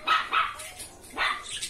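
Several dogs bark outdoors near a country road as a motorcycle passes, sharp repeated barks in two quick bursts with a pause between, fairly close and alone without talk.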